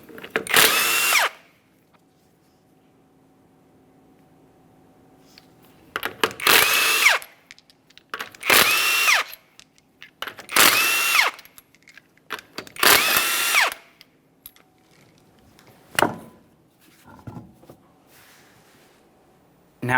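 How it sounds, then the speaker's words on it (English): An impact wrench removes the 21mm lug nuts from the wheel of a 2010-2013 Kia Forte Koup in a row of loud, close bursts of whirring and hammering, separated by short pauses. "To remove the wheel, we're going to remove all 5 of our 21mm lug nuts"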